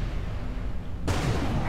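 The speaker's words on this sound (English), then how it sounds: "I managed to swing around just in time to see a massive explosion again." A massive explosion in the space-combat game Everspace 2 erupts suddenly, a loud broadband blast that cuts in over a steady rumbling drone and holds on as a dense roar.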